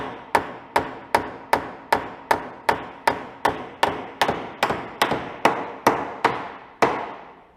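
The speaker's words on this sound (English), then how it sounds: "So you're peening the back of that nail over." A hammer peens the back of a nail over during a Viking ship build, seventeen sharp metallic strikes in a steady, even rhythm, close and loud, each ringing briefly before the next.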